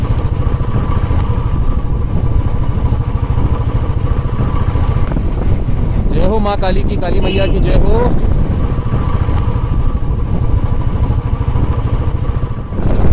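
A Bullet motorcycle rides a mountain road from Nainital toward Munsiyari under cloudy skies, its steady engine rumble and wind noise constant and loud while a rider speaks over it.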